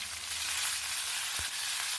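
Pomfret fish with curry leaves frying in a pan for a pepper fish fry, giving a steady, close hiss of oil sizzle with one soft tap partway through.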